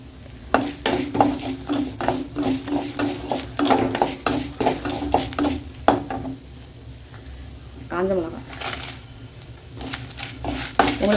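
Perandai (veld grape) with chana dal and tamarind sautéing in a pan for chutney, with a busy run of close, rhythmic stirring scrapes over a continuous sizzle. A brief voice is heard near the end.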